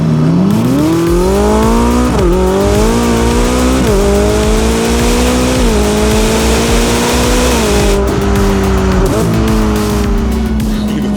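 A powerful Ferrari SF90 Spider hypercar with Novitec modifications and about 1,000 horsepower roars steadily as it accelerates through several gears, pitch climbing and dropping with each shift, loud and close throughout.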